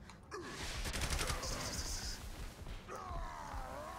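Rapid gunfire in Saints Row: The Third, a sustained burst of shots with crashing impacts over a few seconds, with a voice and game sounds mixed underneath.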